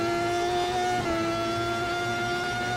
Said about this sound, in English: Got jump scared by an engine.